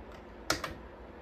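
Two quick keypresses on a Dell Vostro 270S computer keyboard, sharp plastic clicks about a tenth of a second apart, faint and alone in a quiet room.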